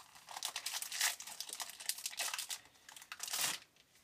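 A VitFit Sport chocolate bar wrapper being opened, with close, continuous crinkling and crackling plastic in several louder bursts over a few seconds and no speech.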